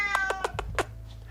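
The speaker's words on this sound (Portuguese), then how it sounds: "Vocês vão ouvir o barulho de um gato miando" A newly fostered cat meows loudly about five times in quick succession, each cry close and clear, ending with a low grumble.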